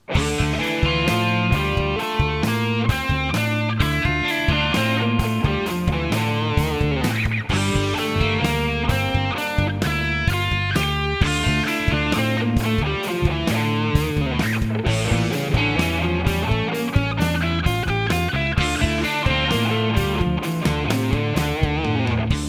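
A distorted electric guitar plays fast scale runs climbing and descending continuously, loud and close, with no talking.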